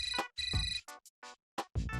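A phone rings for an incoming video call with a melodic ringtone of short tonal phrases and brief gaps, moderately quiet and close.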